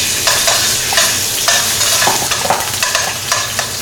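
Food frying in hot oil on a kitchen stove, likely garlic being browned for chicken scampi, with a steady close sizzle broken by repeated stirring and scraping sounds throughout.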